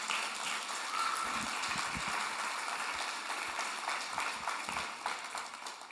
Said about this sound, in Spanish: ¿Cuánto dan un aplauso al Señor por esa palabra?